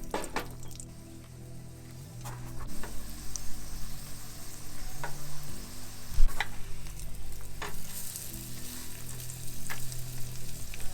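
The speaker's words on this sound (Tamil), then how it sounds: "பர்கரோட பேட்டியை வந்து ஃப்ரை பண்ணிக்கலாம்" A McCain burger patty frying in a pan inside a camper van, a continuous crackling sizzle with small pops and a low background hum, close and steady without speech.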